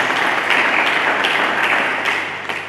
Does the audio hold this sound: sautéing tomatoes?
no